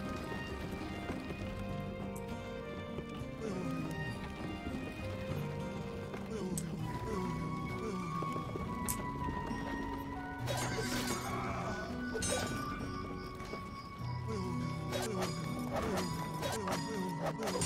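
Horses gallop and neigh among cavalry riders in the Age of Empires Definitive Edition game, with steady hoofbeats and occasional whinnies and clashes layered over game music and narration throughout.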